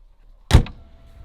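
Koenigsegg Agera R dihedral door swings in and shuts with a single solid close-up thud and a short after-knock, then quiet.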